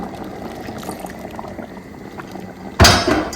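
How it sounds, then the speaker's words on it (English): Corn porridge bubbles quietly and steadily in a pot for Ghanaian oblayoo, and near the end a louder close splash and rush of pouring is heard as the cornmeal mixture goes in, with no talking. "Now let's go ahead and add our cornmeal,"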